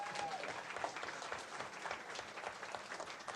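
Audience at a school board of education meeting applauding, a dense, steady patter of many hands clapping throughout, heard from some distance at low volume.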